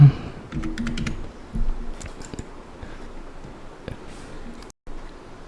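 Fingers tap out a short burst of quick keystrokes on a computer keyboard, close and fairly quiet, with irregular clicks and pauses in between.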